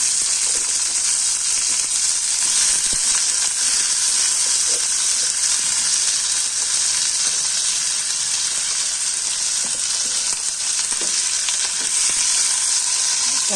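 Onions and tomato fry in a pan with a loud, continuous hissing sizzle that holds steady throughout, with faint scraping underneath.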